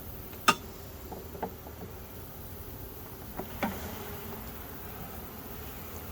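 Honey bees in a kitchen hive, stirred up after smoking during an inspection, give a faint, steady buzzing hum punctuated by a few small clicks and taps, with no talking.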